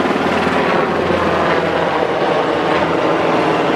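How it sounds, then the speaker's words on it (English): A helicopter flies overhead, a loud, steady rotor roar and rumble filling the whole stretch, close and without talk. "there's a helicopter going over."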